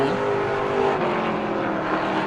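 A Pro Late Model race car roars past on the oval at New Smyrna during qualifying with a loud, steady engine drone that dips slightly as it goes by. The sound is continuous, dense and fairly close throughout.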